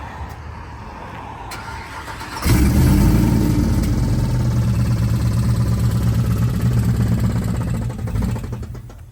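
A truck with a suspected blown motor cranks and starts, then idles loudly and close with a steady, rapid ticking or knocking running through the engine note, with no talk.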